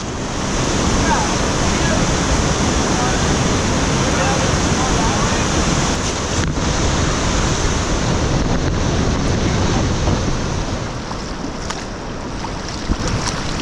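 Loud, continuous roar of rushing river rapids close by in New Brunswick, heard from a canoe, a dense churning wash that barely eases, with wind buffeting the microphone.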